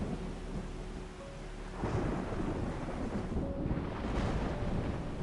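Steady rain falling with a low roll of thunder swelling in about halfway through, a continuous wash of drops under the rumbling storm with no voices.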